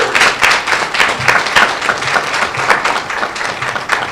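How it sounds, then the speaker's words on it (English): Steady applause from a crowd, dense clapping at an even level throughout, with no voices standing out. "Let's give these ladies a round of applause."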